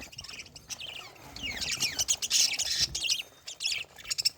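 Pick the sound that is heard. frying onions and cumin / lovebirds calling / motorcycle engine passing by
lovebirds calling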